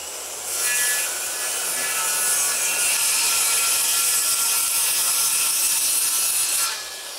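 A circular saw rips a long, steady cut through plywood, with locking pliers clamped on as an edge guide. The blade whines loud and close for about six seconds, then drops back to idle.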